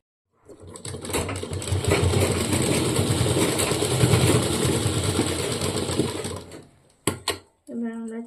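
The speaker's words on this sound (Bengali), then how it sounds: "এবার আমরা চাপ সেলাই দিয়ে দেবো এখানে।" An electric sewing machine runs at a steady fast chatter while stitching the elastic waistband of a half pant, loud and close for about six seconds, then stops and gives a couple of brief bursts.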